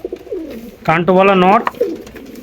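Teddy breed pigeons coo close by in a short, rolling burst of under a second, with someone talking just before and after.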